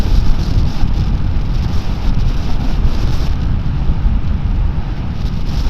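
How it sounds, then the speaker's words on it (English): Strong, blustery wind buffets the microphone while a Voge R625 motorcycle rides in the UK countryside, a loud, continuous low roar with uneven gusty swells and no speech. "It is very blustery, but it's doing quite well."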